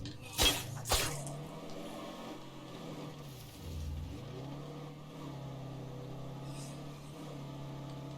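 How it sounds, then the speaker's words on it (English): A vehicle engine in the video game State of Decay 2 hums steadily with a slight whistle, dipping and rising in pitch as it revs, after two sharp bangs at the start; no speech. "Got a little whistle to the engine. I think we're going to need to repair it soon."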